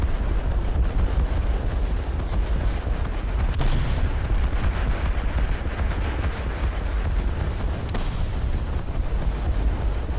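Naval guns fire on an island in the War Thunder coastal battle game, a dense, continuous barrage of booming shots and blasts with a few sharper cracks standing out, loud and unbroken with no talk.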